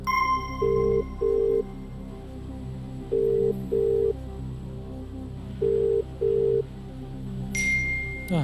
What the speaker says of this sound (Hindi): कंप्यूटर महाशय, लेफ्टिनेंट कर्नल अक्षत उपाध्याय जी को फोन लगाया जाए